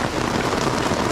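Steady rain drums on a tent at a campsite, a dense, even hiss of drops spread across the whole moment with no voices and no letup.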